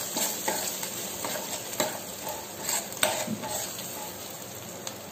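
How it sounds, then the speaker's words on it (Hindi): Ground spices being stirred into potato curry in a pan: a soft sizzle under repeated spoon scrapes and clinks against the pan, close and fairly quiet, no talking. "सबको अच्छे से मिक्स कर लेते हैं।"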